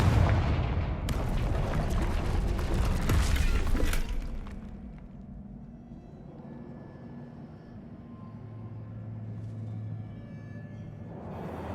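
Confringo fire spell blasting in Hogwarts Legacy, a loud explosive burst with rumbling, crackling debris for about four seconds, then a fading low rumble and faint hum.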